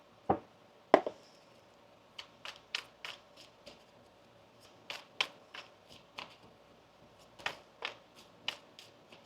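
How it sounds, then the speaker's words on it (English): A deck of tarot cards is shuffled by hand in a series of crisp riffles and slaps, irregularly spaced over several seconds, close and fairly quiet with no talking. "One more shuffle now."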